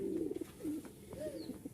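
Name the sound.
pair of Giribaz pigeons cooing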